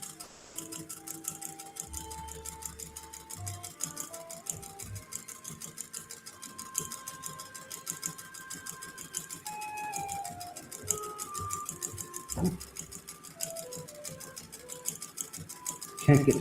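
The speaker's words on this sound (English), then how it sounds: "I'm going to continue quietly sewing on this pennant in front of me" A sewing machine stitches a pennant in a fast, even, rapid ticking run that carries on for the full stretch, quiet and close, with faint background tones and someone talking at moments.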